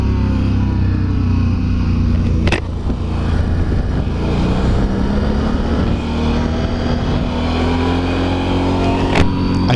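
Steady, loud engine and road noise from several cars driving past on a road in Belgium, with rising and falling tones as vehicles pass close by and a brief sharp burst midway.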